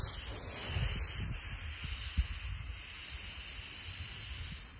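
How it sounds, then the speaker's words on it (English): Spray paint hissing steadily onto a cattle fence panel being turned into a garden trellis, a close continuous hiss with faint low thumps and rustles underneath, no voices. "We'll spray paint both sides, probably put two or three coats on"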